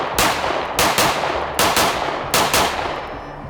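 Five sharp gunshots from a 5.7 pistol ring out at an uneven pace, each a loud, close crack with a short decaying tail and no voices over them.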